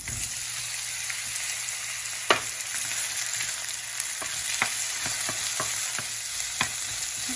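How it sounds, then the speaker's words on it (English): Onion frying in oil in a wok, a dense steady sizzle with occasional scrapes and taps of stirring, close and without voices. "Now add more oil. We'll cook the onion."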